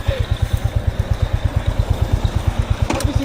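A motorcycle idling close by, its engine thumping in a fast, even pulse that stays steady throughout, with a brief faint clatter near the end.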